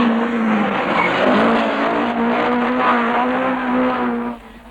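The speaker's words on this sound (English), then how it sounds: "fastest here Jimmy McRae in the Chevette" A Chevrolet Chevette rally car racing at the Great Orme in Llandudno during a 1970s RAC Rally stage, its engine holding a loud, close, sustained drone before dropping away sharply at the end.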